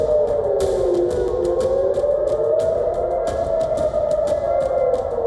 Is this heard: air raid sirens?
yes